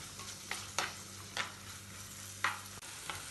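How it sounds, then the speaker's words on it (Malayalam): Curry leaves, ginger and garlic sautéing in a pan for fish masala, giving a steady soft sizzle broken by a few distinct spoon scrapes and stirs, close and fairly quiet. "കുറച്ച് കറിവേപ്പില, ഇതെല്ലാം ചേർത്ത് വഴറ്റാം"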